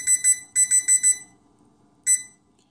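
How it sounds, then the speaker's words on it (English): A series of sharp, high electronic beeps from an Eachine Touch T100 battery charger's key beep buzzer in quick groups: two, then four, then a single beep after a pause, clear and close. "Key beep buzzer, yep, keep all the beeps on."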